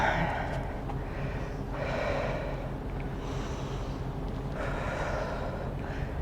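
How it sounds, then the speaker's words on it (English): Slow, deep breaths in and out during a beginner yoga pose, soft airy inhales and exhales rising and falling at a relaxed pace, close and fairly quiet. "And you're going to breathe deep here."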